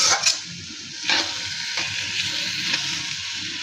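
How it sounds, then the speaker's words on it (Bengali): Finely shredded cabbage being sautéed for a long time in a pan; continuous soft sizzling with a few scraping strokes of a spatula, close and moderately loud, no voices. "আমি বাঁধাকপিটাকে অনেকক্ষণ সময় নিয়ে কষিয়ে নিয়েছি। ভালো করে কষিয়ে নিতে হবে।"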